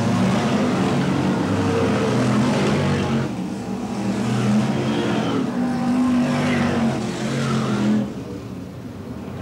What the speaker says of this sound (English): The BriSCA Formula One stock cars in full flight